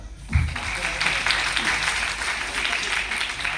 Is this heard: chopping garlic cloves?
no